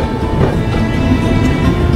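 A passenger train rolls along toward Kalimpong in North Bengal, a loud steady low rumble and rattle from inside the carriage with no gaps.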